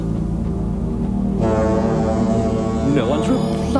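A tugboat's foghorn sounds in a port: a loud, deep, sustained blast whose layered tones swell partway through, carrying on without a break.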